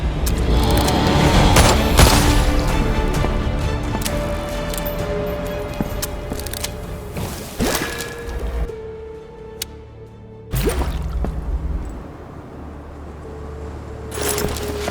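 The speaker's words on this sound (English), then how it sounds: "I can't open the lock without the key. I have to shoot it off." Gunshots blast at a lock in the Bunker 22 video game, a few loud sharp reports amid rumbling mechanical game noise, with brief quieter gaps between heavy bursts.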